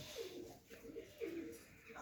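Dutch tumbler pigeons cooing softly in a few repeated low, rolling calls, close by and outdoors on a sunny morning, with faint background ambience and no talking.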